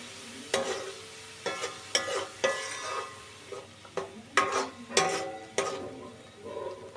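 Tomato gravy goes into a hot pan for egg curry and sizzles while a spoon stirs and scrapes, giving repeated clinking strokes about every half second over a low frying hiss, close and clear.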